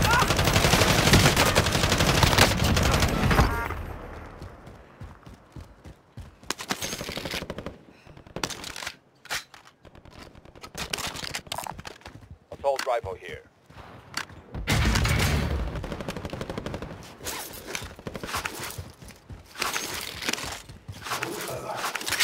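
Small caliber gunfire in Call of Duty Modern Warfare, with sharp bursts and single shots cracking in irregular clusters between quieter pauses, loud and close, with footsteps and a voice talking now and then.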